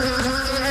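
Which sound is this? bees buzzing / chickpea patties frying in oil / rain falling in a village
bees buzzing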